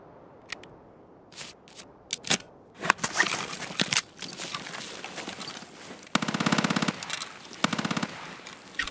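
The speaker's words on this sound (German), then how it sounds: "Irgendwer hat gerade auf den Scav geschossen." Gunfire in the shooter game Escape From Tarkov on the Customs map, aimed at a Scav: scattered single shots, then dense automatic bursts, loud and close, with quieter pops in between.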